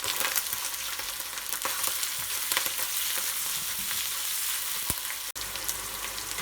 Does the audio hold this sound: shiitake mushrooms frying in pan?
yes